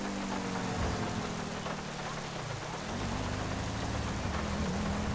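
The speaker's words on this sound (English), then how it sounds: "It's still raining." Steady rain in Grand Theft Auto V hisses over a low engine drone that dips and rises, continuous and fairly quiet, with no talking.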